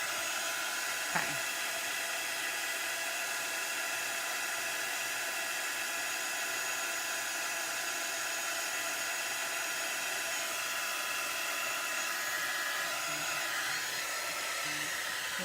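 A hair dryer blows steadily on a small handmade ghost-and-pumpkin craft, a continuous broadband whoosh of even loudness throughout, with one brief click near the start and no talking.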